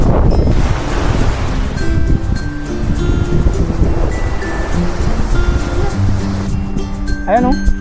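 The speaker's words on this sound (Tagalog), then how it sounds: "Ito nyo naman yung dagat oh." Waves rolling onto a sandy, stone-free beach at Cagbalete, a steady loud wash with wind buffeting the microphone while a person talks over it throughout.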